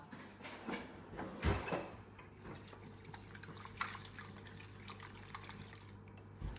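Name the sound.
whisking peanut butter batter with egg substitute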